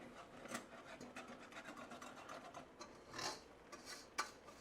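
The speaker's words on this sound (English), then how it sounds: "and we whisk" Whisk scraping and rasping through butter, flour, mustard and black pepper in a pan for mac and cheese, a steady run of quiet, close scratchy strokes with a few sharper clicks against the pan.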